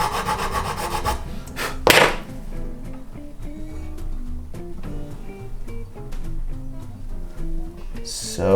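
StewMac DiamondCut files slotting a guitar nut, a close, fast back-and-forth rasping of file strokes with one louder scrape near the start and faint talk underneath.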